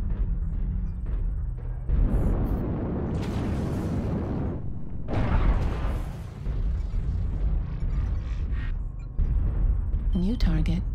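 Airstrike explosions in the MechWarrior Online mech game, with several heavy rumbling blasts in succession, loud and close, under a synthetic voice and game noise.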